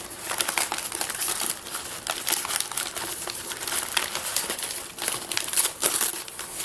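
A taped-up shipment package is torn open up close, with continuous crinkling, crackling and ripping of tape and packing material. No voices are heard.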